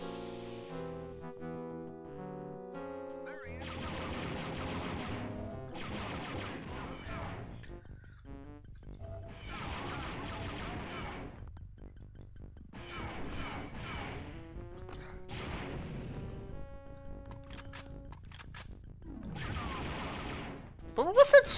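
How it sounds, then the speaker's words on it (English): Explosions and blaster fire in the Star Wars Dark Forces video game come as repeated loud, noisy bursts over the game's musical score, with a player talking at times. "There were explosions going on."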